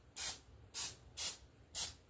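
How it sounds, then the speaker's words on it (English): Olive oil cooking spray released in four short, evenly spaced bursts of hiss, close and crisp, each lasting about a quarter second with quiet pauses between. "Just taking a little bit of olive oil cooking spray"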